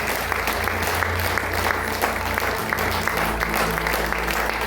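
A church congregation breaks into sustained, dense applause, many hands clapping together evenly and loudly without a break.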